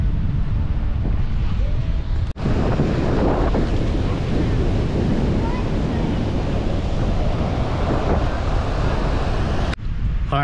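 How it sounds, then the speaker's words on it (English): Waves rolling onto Clearwater Beach, Florida, a loud continuous wash of surf mixed with heavy wind buffeting the microphone, with no voices over it. "let's check out the beach"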